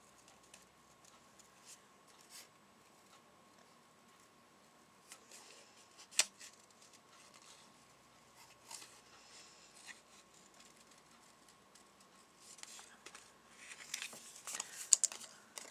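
Scissors cutting green paper for a handmade card, faint sparse snips and small crinkles at close range over a quiet room hum, with a louder patch of rustling toward the end.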